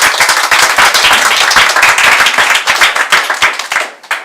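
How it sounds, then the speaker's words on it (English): A round of applause from the audience after a talk on expanding IT in Estonia, dense steady clapping that fills the room, then thins and stops near the end. "Let's make a round of applause to Jüri Jõema."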